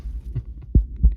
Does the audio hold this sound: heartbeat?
yes